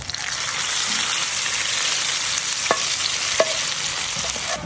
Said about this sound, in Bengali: ঘিয়ে ভাজা পেঁয়াজ একদম রেডি।